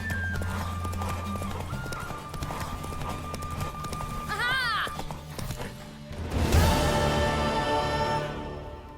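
Galloping horse hooves in The Witcher 3 on PS5, a steady clip-clop running throughout over music, with a brief whinny midway and a louder crash of movement toward the end.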